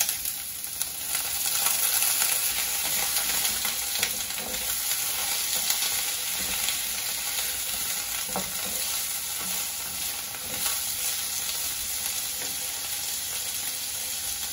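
Baby corn and bamboo shoots stir-frying in red curry fried rice sizzle steadily in a hot pan, a constant bright crackle broken by occasional scraping and stirring clunks.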